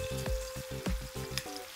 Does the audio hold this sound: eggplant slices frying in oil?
yes